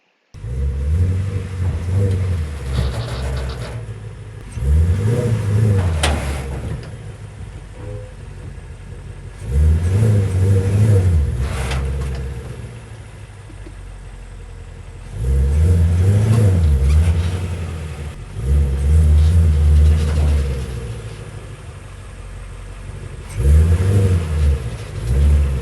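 A Ford Mustang GT350 inching up DIY ramps onto a U-Haul trailer, its engine rising in about five loud, close rev bursts separated by lower idling rumble.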